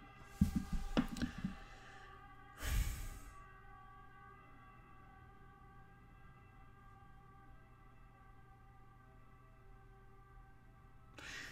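An ambulance siren passes outside, faint and distant, its steady wailing tones holding under a quiet room after a couple of short knocks and handling noises near the start.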